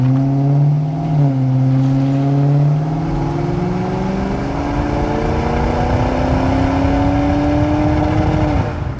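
A 1991 Ford Mustang LX coupe with its 5.0 V8 pulls away on a test drive, the engine loud and close, pitch rising and dipping through gear changes, a steady throaty drone climbing toward the end.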